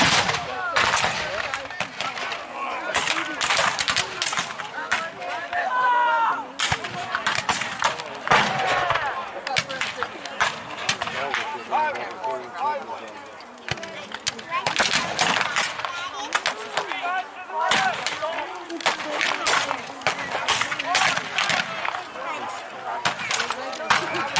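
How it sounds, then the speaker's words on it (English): Loud gunfire at an outdoor Powerland 2019 event, with dense bursts of shots and rattling volleys continuing throughout, mixed with crowd chatter and people talking nearby. "Their guns are loud."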